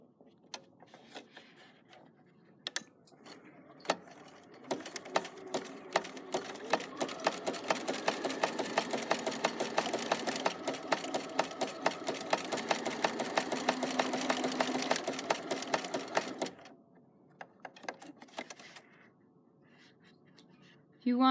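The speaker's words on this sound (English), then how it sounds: "Go right to the edge, put a back stitch, and then I like to come back and do" A sewing machine stitching a coiled rope basket: after a few isolated clicks, a fast, continuous mechanical whirr with rapid needle taps runs for about twelve seconds, then stops, leaving quiet handling sounds.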